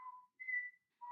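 A person whistles three short notes, low, then higher, then low again, clear and soft with brief gaps between them.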